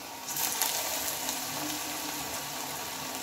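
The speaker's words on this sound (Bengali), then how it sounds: "এগুলো অল্প তেলের মধ্যেও ভাজা হয়" Steady, close sizzling of bottle gourd fritters frying in shallow oil, a continuous crackling hiss that stays even throughout with no voices.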